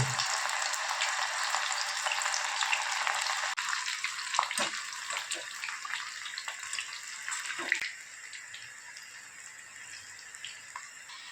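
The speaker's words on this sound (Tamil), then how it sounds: "எண்ணெய் நல்லா காஞ்சிச்சு இப்போ நான் இந்த காலிஃப்ளவரை அதில் போட்டுக்கிறேன்" Cauliflower pieces for restaurant-style cauliflower manchurian fry in hot oil over a high flame, giving a loud, continuous hissing sizzle with scattered pops that eases slightly toward the end.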